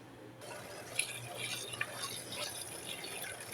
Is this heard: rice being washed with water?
yes